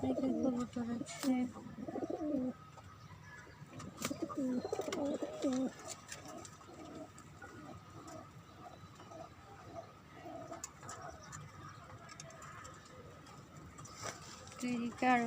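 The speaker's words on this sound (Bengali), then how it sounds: "এদিকে আরো কবুতর আছে" Several domestic pigeons in a loft coo in rolling bursts, loud and close at first, then softer repeated coos continue with occasional chirps.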